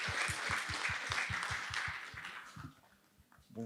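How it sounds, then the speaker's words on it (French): Applause from a small audience at a French job-interview coaching meetup as a woman is invited up. Quiet, close clapping with distinct individual hand strikes keeps a steady rhythm, then thins out and stops near the end. "Sous vos applaudissements"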